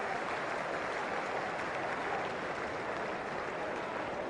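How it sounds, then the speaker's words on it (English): Loud, sustained applause from a cricket crowd giving a standing ovation as Steve Waugh walks off retired hurt, a dense even roar of clapping throughout. "Standing ovation on the way out"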